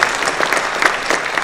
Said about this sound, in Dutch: een hartelijk applaus voor jullie zelf